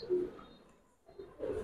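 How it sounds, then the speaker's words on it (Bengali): Giribaz pigeons coo in two soft low bursts separated by a brief near-silent gap, close by and fairly faint, with no voices. "এগুলি রেজাল্ট করা কবুতর।"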